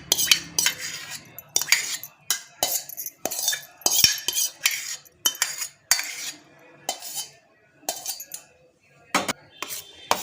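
A spoon scrapes and clinks repeatedly against a greased plate while stirring hot sesame jaggery syrup, with close, irregular metallic strokes and short pauses.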